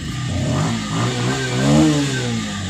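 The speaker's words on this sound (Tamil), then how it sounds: "இப்போ வண்டி வந்து செல்ஃப் ஸ்டார்ட் பண்ணோன்னா வண்டி வந்து ஸ்டார்ட் ஆகும் பார்த்தீங்களா" A Bajaj Pulsar 150 BS6 motorcycle cranks on its self-starter and catches, its engine revving up close and loud with a steady mid-pitched rumble that swells and settles over a few seconds.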